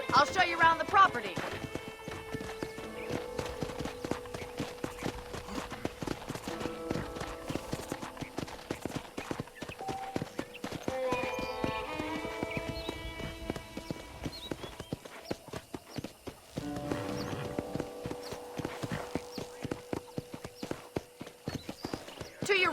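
Rhythmic horse hoof clip-clops in Red Dead Redemption trot steadily under light music, with a person talking over them throughout.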